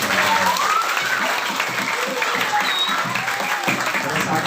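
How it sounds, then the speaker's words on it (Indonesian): An audience at an Isra' Mi'raj commemoration, with santri students among them, claps loudly and continuously from start to finish, a dense, even roar of applause. "tepuk tangan yang mulia"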